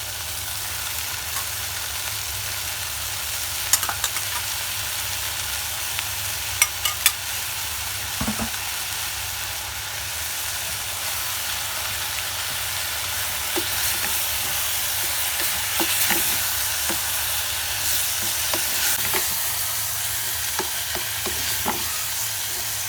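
Chicken with mushrooms and tomato fries in a pan, giving a constant close sizzling hiss broken by scattered clicks and scrapes of a utensil stirring, with no one speaking.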